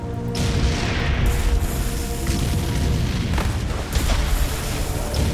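Dense, continuous battle din of booming blasts and heavy gunfire from the D-Day landing of Canadian tanks and infantry at Juno Beach, Normandy, 1944, a loud rumbling barrage with sharper reports at intervals and no clear pauses.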